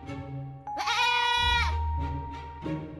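A goat gives a loud, wavering bleat up close, followed by a few shorter, fainter calls in quick succession.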